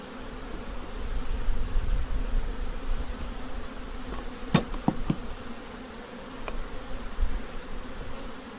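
Honey bees buzz continuously around an opened long hive while it is being put back together, a steady close drone with a few sharp knocks and clicks from hive parts in the middle.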